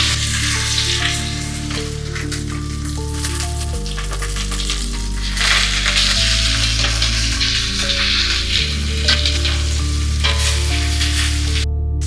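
Chicken pieces browning in a pot for a lighter Caribbean stewed chicken, giving a loud, steady sizzle that runs the whole time with a few stirring scrapes and light clinks, and no voices.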